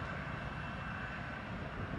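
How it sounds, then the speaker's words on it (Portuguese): An Azul Airbus A320neo (A320-251N) sits at an airport about 500 metres away, its engines producing a steady, fairly faint low roar and whine that holds evenly throughout. "Pode ver esse avião aí."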